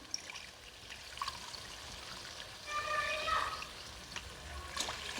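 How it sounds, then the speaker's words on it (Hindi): Two glasses of water poured into a pot of half a kilo of rice for fish pulao, a soft, faint splashing pour that swells in the middle. "मेरे पास आधा किलो चावल थे तो मैं अभी 2 गिलास में पानी शामिल कर रही हूँ।"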